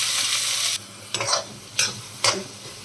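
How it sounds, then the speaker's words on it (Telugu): Onions fry in a pan with mustard seeds and cumin: a loud burst of sizzling, then three distinct stirring scrapes spaced about half a second apart, close and with no voices. "ఫ్రై చేసుకుందామండి బాగా."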